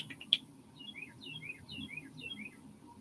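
Small birds chirp in quick repeated high tweets, a few calls in a row over quiet background hum.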